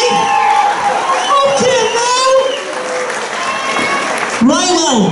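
A talent show audience at a social club applauds and cheers, with whoops rising over the clapping, while a host speaks loudly over the crowd.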